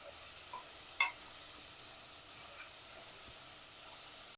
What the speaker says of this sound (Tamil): கேரட்டு, பச்சை பட்டாணி, உருளைக்கிழங்கு கொஞ்சம், எல்லாத்தையும் நல்லா வதக்கிக்கலாம்